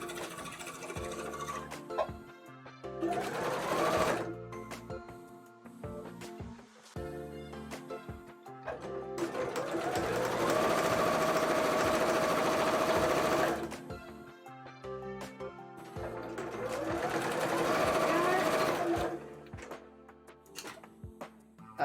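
Sewing machine stitching cosplay costume fabric, three long close bursts of rapid whirring stitching separated by short pauses with fabric handling in between.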